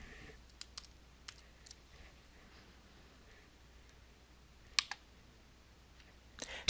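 Sparse, faint mouse clicks come from a computer interface as buttons are pressed in software, a few sharp isolated taps spread across a quiet room, with a louder cluster near the end.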